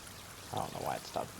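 Crops are watered in the video game Palworld, with short bursts of pouring, splashing water in two spurts after a quiet start.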